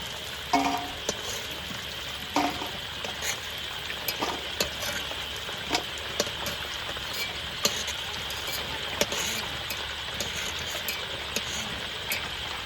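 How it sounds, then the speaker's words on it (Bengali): Chicken pakoras frying in oil, a steady hiss of sizzling with scattered sharp crackles and occasional stirring clinks throughout, no voices. "এবারে বাকি পকোড়াগুলো এভাবে ভেজে নেবো"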